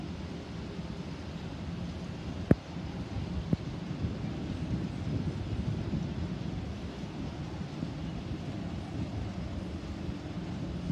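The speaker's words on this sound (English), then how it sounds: "It's raining." Steady wind and rain rush outdoors on a foggy evening, a constant low roar with two sharp clicks early on, and no one speaking.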